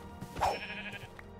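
A single sheep bleat in Minecraft with the RLCraft mod, short and wavering, heard over a quiet background hum with no talk.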